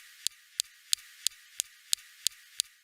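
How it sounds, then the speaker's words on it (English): The Perseverance rover's SuperCam laser zaps rocks on Mars: a faint, evenly spaced series of eight sharp ticking snaps about a third of a second apart, alone over a hushed background. "Next, we have the SuperCam laser zapping rocks."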